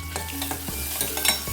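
Onion sautéing in a pan for a tomato-based protein curry, with soft sizzling under several close scrapes and clinks of a spoon stirring, no talking.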